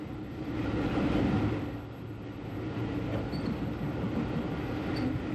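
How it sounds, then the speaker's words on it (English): A steam train headed by an E-Class 4-4-0 locomotive gives a continuous loud rumble with steady rolling noise. The sound swells slightly early on and then holds fairly even, with no distinct beats. "The train halted at the signal is headed by an E-Class 440"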